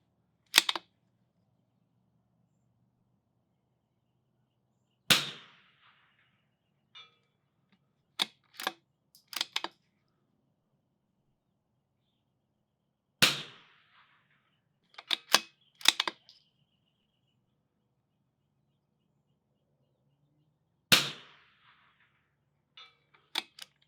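Rifle shots firing Lapua ammunition crack out at an outdoor shooting range, spaced several seconds apart, each sharp report followed by short clicks and clatter of the bolt working, otherwise quiet between shots.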